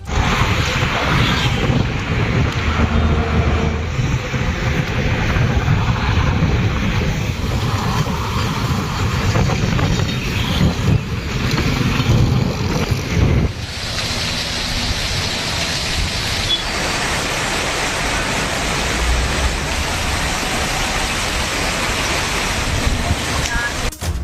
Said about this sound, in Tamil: சூறாவளி காற்றுடன் கூடிய கனமழை கொட்டி தீர்த்தது